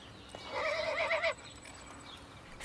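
A horse at the Royal Andalusian School of Equestrian Art in Jerez, Spain, gives a single clear whinny lasting under a second, fairly close and alone against quiet surroundings.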